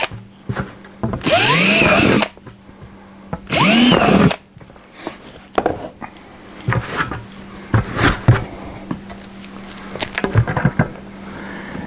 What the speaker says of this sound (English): So if you drill the right size hole